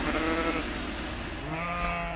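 A cartoon sheep bleats in a long, wavering, nasal cry, loud and close, continuing steadily over a soft background.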